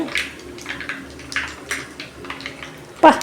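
Fenugreek seeds pop and crackle irregularly in hot sesame oil, with sharp little bursts scattered over a low sizzle close by.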